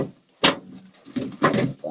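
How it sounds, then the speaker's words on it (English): The side panel of a computer case sliding off, a brief sharp scrape followed by light rattling handling noises, near and fairly quiet. "slide your case off."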